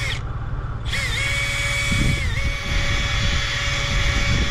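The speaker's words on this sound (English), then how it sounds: "So I think I'm going to try a drill in these earth anchors." A power drill whirs steadily while cleaning dirt and mud out of earth anchors on a snowy trapline, a loud continuous motor tone that changes pitch briefly, with no talk over it.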